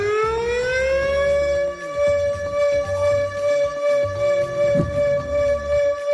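An outdoor warning siren with a spinning top cone winds up into a steady, loud rising and sustained wail that holds its pitch, with no talking over it.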